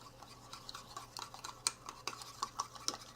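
Spoon stirring microwave mug cake batter with sugar inside a mug, a quiet series of uneven clinks and scrapes against the ceramic over low room hum, with sharper taps near the end.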